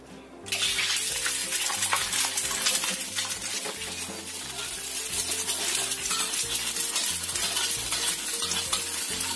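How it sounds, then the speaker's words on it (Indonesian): A scrambled egg fries in hot oil in a pan, giving a steady, close sizzle broken by scraping stirring strokes. Faint, rhythmic background music plays underneath. "Kita goreng telur orak-arik."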